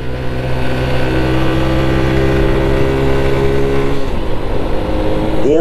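Honda Biz C100 motorcycle engine revving while riding, a loud close buzzing drone with stacked harmonics that holds high, then the pitch drops and climbs again as the revs change.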